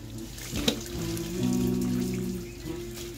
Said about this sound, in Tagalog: Ang ginagawa ko, naliligo ako.